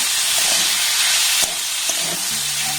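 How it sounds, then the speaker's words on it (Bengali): Minced chicken sizzles steadily in a hot pan with spices, a dense, even frying hiss lasting throughout with a few soft stirring knocks near the end. "চিকেনটা দিয়ে আবার সমস্ত উপকরণের সাথে খুব ভালোভাবে কষে নেব"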